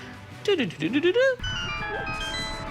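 A bright, bouncy electronic jingle with rising and falling melodic tones, followed by a sustained shimmering chord, loud and close with no talking.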